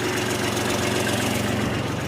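A tractor engine idles steadily, a loud, rough, continuous rumble with a fast rhythmic knock, close by and unbroken.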